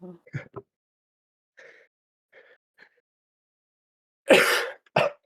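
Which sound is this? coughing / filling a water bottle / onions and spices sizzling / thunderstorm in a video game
coughing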